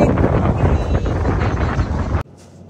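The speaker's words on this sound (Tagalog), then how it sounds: "Ang lakas ng ng hangin dito." Strong, cold wind in Taiwan buffets the microphone in a loud, continuous roar that cuts off abruptly near the end.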